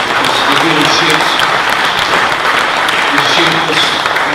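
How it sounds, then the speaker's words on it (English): Sustained applause from a large audience at the SNP's annual national conference, a steady loud wash of clapping that continues unbroken throughout, with faint voices mixed in. "a round of applause for the speakers"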